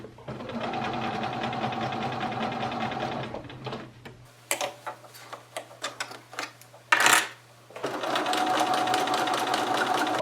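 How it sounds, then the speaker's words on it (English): A sewing machine stitching a skirt onto a dress bodice runs in a fast, steady whirring hum, stops for a few seconds of scattered clicks and fabric handling, then starts again at full speed. "So now I match the skirt and the bodice, and I'm just going to sew it."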